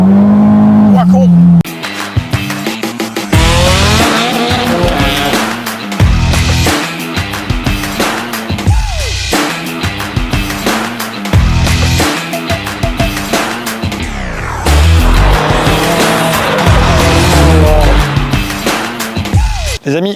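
An Abarth performance car with a Stage 3 tune and Garrett GBC 250 turbo revs hard and skids, its loud engine rising and falling in repeated bursts with tyre squeal, while someone talks over it.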